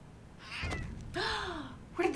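A cat meows twice, a short cry followed by a longer rising-then-falling meow, fairly close and quiet, with a breathy sound in between.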